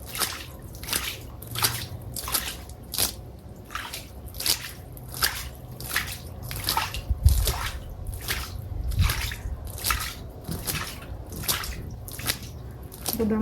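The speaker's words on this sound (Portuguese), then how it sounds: "Tirar essa água suja com a mão." Dirty, slightly green water is scooped out of a basin by hand, making a steady run of wet drips and squelchy splashes roughly twice a second, close and moderately loud.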